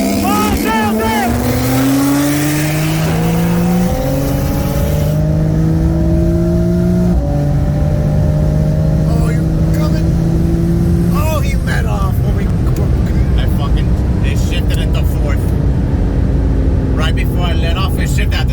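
A tuned 2020 Audi RS3 with an IMS850S turbo kit on E85 races a 2017 Porsche 911 Turbo, loud engines climbing through rising pitch sweeps with gear shifts between, then wind roar as the cars run flat out.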